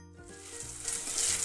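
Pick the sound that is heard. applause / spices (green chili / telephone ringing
spices (green chili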